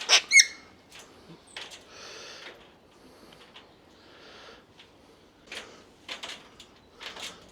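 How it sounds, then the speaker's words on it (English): A grey parrot calls and chatters over breakfast inside a wildlife park enclosure, sharp squawks and whistles coming in irregular bursts at moderate distance, the loudest cries at the start and a cluster of shorter calls toward the end. "there's a grey parrot in there just having its breakfast. It's up here making all this noise."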